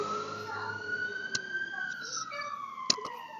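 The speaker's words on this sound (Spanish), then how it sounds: "venía la ambulancia justo enfrente" Ambulance siren passing just in front of an indoor space, a steady wailing tone at moderate level with a few sharp clicks and faint voices underneath.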